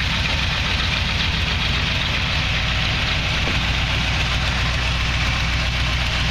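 1970 Chevy C10 Stepside custom with side-exit exhaust idling, a steady, close engine rumble that holds constant without revving.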